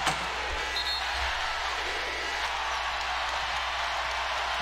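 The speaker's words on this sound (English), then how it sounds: "y'all hear that crowd?" Basketball arena crowd roaring during an LSU versus Middle Tennessee State second-round game, a steady, dense wash of cheering that holds at a constant level, broad and somewhat distant.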